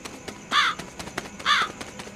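A crow caws twice, two loud harsh calls about a second apart, with faint rustling and clicking between them.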